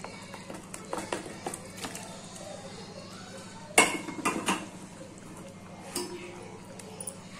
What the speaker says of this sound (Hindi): तो यहाँ पर मैं सारा पनीर डाल दूँ, सबको अच्छी तरह से मैं मिक्स कर लेती हूँ।